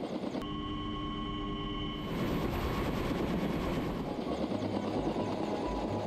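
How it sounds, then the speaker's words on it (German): A helicopter used for stringing a cable pulley assembly on a construction job roars close and loud, its steady rotor and turbine drone swelling after a brief tonal whine at the start, with no talk. "Simon Kählin und sein Kollege müssen die Rollenbatterie an den Hubschrauber hängen."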